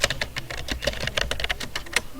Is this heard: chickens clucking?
no